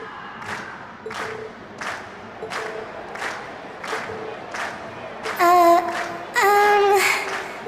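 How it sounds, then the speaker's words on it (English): A crowd in a video game cheers and claps after a class's stage performance. The noise is continuous and mid-level, with repeated rhythmic bursts, and brief louder musical or electronic swells come near the end. "we've heard your cheers loud and clear."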